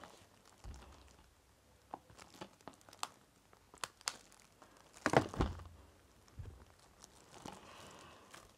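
Packaging for an Animal Crossing amiibo Festival game is crinkled and torn by hand, with scattered rustles and sharp tearing bursts, one louder rip midway, close but quiet.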